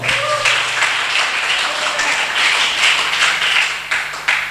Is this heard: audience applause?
yes